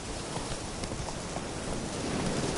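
Hooves of Roach, a horse in The Witcher 3, clip-clopping at a steady pace, blended into a dense wash of rain-like noise with no talk.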